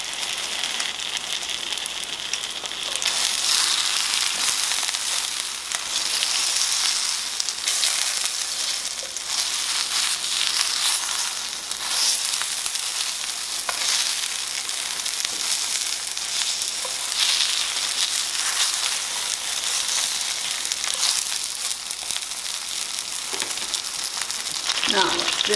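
Potstickers with bacon and ramps brown in about three tablespoons of hot oil in a pan, giving a steady, loud crackling sizzle that carries on throughout.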